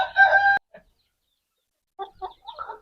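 An Aseel rooster on a farm gives a loud, close crow, followed after a pause by a few shorter, fainter clucks and calls from the flock.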